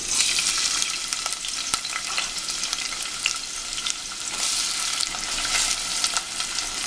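Onions fry in very hot vegetable oil in a pot, giving a dense continuous sizzle with crackling pops and occasional stirring scrapes, close and steady, with no talking.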